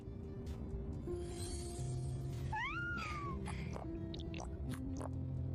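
A small kitten gives a single rising and falling meow partway through, soft and fairly close, over a steady low background hum.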